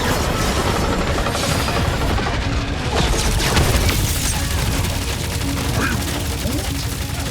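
A big gun blasts in Marvel's Guardians of the Galaxy amid a chaotic battle, with heavy continuous firing and impacts layered under combat noise and character voices throughout.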